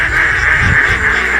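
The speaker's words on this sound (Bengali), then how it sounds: "এখানে আছে আমার প্রায় 500টি হাঁসের মতো" A flock of about 500 ducks on a duck farm quacks in a steady, dense chorus that stays loud and continuous throughout, with no speech.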